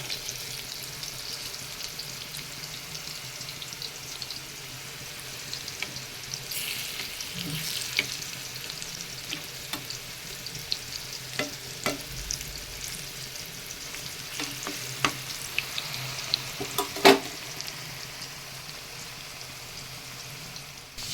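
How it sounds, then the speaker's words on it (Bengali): Fish-shaped raw banana koftas fry in hot oil with a continuous crackling sizzle, punctuated by scattered clicks and clinks of a utensil against the pan, one sharper knock standing out near the end. "আর দেখো কোপ্তাগুলি সব ভাজা হয়ে গেছে"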